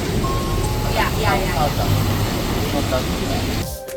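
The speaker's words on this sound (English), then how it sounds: "I'm getting drenched in the rain here in Tokyo" Steady heavy rain hissing over a Tokyo street, with passing traffic noise and a voice briefly heard underneath.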